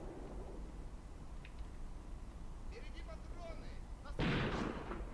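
A 45mm anti-tank gun fires in the Graviteam Tactics war game, one sharp, loud blast near the end over a steady low battlefield rumble, with faint distant pops earlier.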